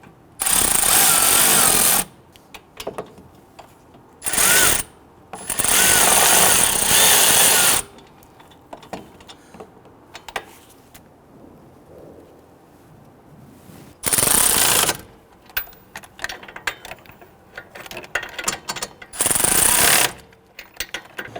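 Power tool snugging wheel hub bolts on an Infiniti G37 during front wheel bearing and hub replacement, several loud close rattling bursts separated by quieter handling clatter.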